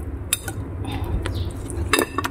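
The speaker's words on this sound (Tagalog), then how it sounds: "Haluin natin." Banana bread pudding mixture with melted butter being stirred in a bowl, a utensil scraping and clinking against the dish in soft, irregular taps and a few sharper clinks, close and fairly quiet.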